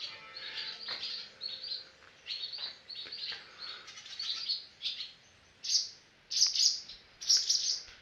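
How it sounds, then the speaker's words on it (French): Small birds chirping near their young, a series of short high tweets in bursts with brief pauses, growing sharper and louder toward the end, close by and without any talk. "C'était le petit interlude oiseau."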